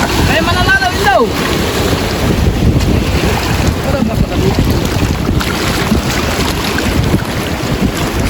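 Strong wind roars and buffets the microphone on a small fishing boat at sea during spearfishing, with water sloshing against the hull and brief voices in the background.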